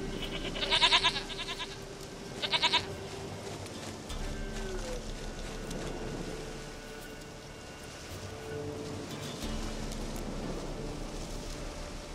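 A goat in The Witcher 3 game gives two close, quick bleats early on, followed by quieter game ambience with low tonal background sound and no talking.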